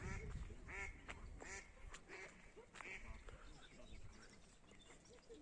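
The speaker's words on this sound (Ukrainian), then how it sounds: "Качки щось сваряться трохи." Ducks quack in overlapping, squabbling bursts over a busy outdoor background at a pond in Ternopil, with some voices mixed in.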